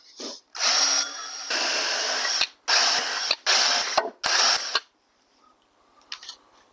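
A power drill bores holes, whining in several loud, steady bursts of a few seconds each with short pauses and clicks between, close by, then quiet at the end.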